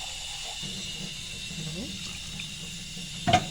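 Water pours into a cooking pot in a steady hiss, with faint voices murmuring underneath and a short clink at the end.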